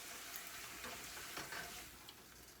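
Corn tortillas frying in a pan, a soft, steady sizzle with faint crackles, quiet and close throughout the short stretch.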